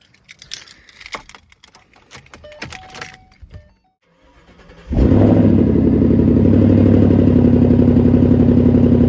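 A first-generation Coyote V8 Ford Mustang GT with Corsa Extreme exhaust fires up after a few seconds of quiet jingling, then idles with a loud, deep, burbling exhaust rumble that holds steady to the end.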